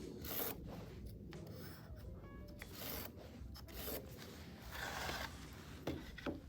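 A pencil marks notches along a wooden board beside a template, giving quiet, close scratching and rubbing strokes in short bursts with small knocks between them.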